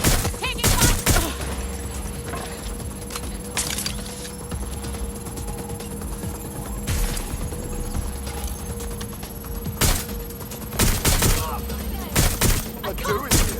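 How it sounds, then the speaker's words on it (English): Gunfire in the Watch Dogs: Legion video game, with sharp repeated shots in irregular bursts of several rounds over continuous background game noise. "Taking fire!"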